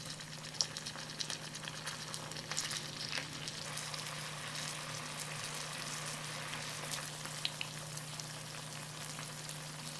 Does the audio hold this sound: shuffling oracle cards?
no